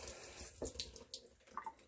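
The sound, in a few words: tap water running while rinsing a peeled boiled egg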